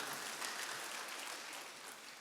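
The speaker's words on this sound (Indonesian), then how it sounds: "Ayo kita tepuk tangan meriah." Church congregation applauding during worship, a soft continuous wash of many hands clapping at a distance.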